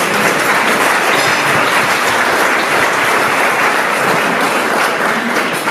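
An audience at a brunch event applauds in a steady, dense wash of clapping that stays loud and even from start to finish, with no talk over it.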